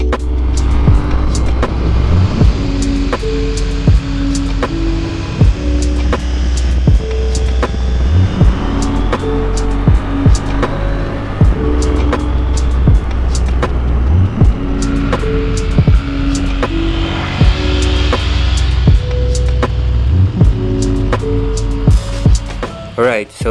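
A KTM Duke 790 motorcycle riding off, its engine note climbing and dropping through gear changes, loud and close over a steady rumble for the whole stretch.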